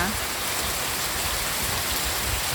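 Heavy rain driven by wind pours down in a dense, loud, unbroken roar of hiss and splatter, close and continuous throughout.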